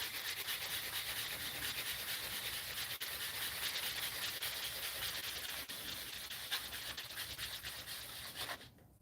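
A ring is sanded by hand, giving a close, continuous rasping rub that stays steady and even for several seconds before stopping abruptly at the end, with no talking.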